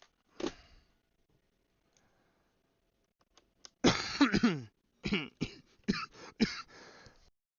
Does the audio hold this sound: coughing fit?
yes